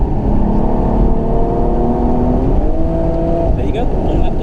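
A car lapping the Nürburgring on a tourist day hums steadily, the engine pitch climbing smoothly as it accelerates, heard close from inside the car with a person talking over it.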